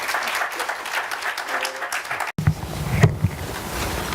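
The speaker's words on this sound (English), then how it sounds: "Another round of applause." Audience applause for speakers at a Chicago Community Trust event, a dense steady clatter of many hands that cuts out abruptly midway, then resumes more thinly with a few loud claps and murmuring voices.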